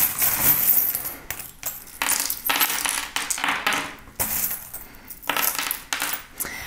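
Small metal charms tossed onto a surface during a card reading, producing bursts of bright clinking and jangling that come and go in several rattling waves, with short quiet gaps between them.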